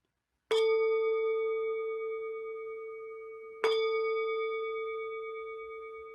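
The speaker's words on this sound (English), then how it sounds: "I'm going to ring the bell, and that should allow you to slowly bring your attention back." A meditation bell is struck twice, each strike a clear ringing tone that decays slowly, with the second strike about three seconds after the first in a quiet room.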